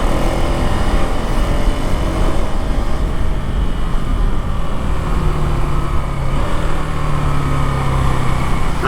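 KTM Duke 390 Gen 3 motorcycle (2025) riding with quick shifter gear changes: a loud, constant engine drone with rushing wind throughout, the pitch shifting slightly midway.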